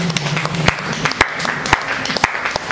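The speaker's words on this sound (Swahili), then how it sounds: "Hebu pesa makofi ya utukufu." A church congregation at an evening worship service claps in praise, with sharp scattered hand claps over a roomy murmur of voices, loud and continuous for a few seconds.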